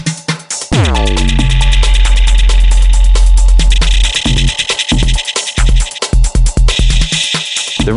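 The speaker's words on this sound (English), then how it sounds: "Dub echo." Dub echo effect on a Pioneer DJM-900nexus DJ mixer: loud electronic music with a decaying, repeating echo tail that sweeps down after an early hit, then dense beats with rhythmic gaps and stutters toward the end.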